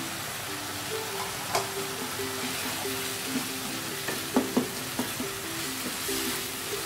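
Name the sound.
mince and potato curry stirred while frying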